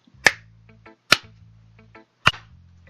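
Clapping sound effect in the video game Doki Doki Literature Club: three sharp, evenly spaced claps, each followed by a short, soft tonal chime.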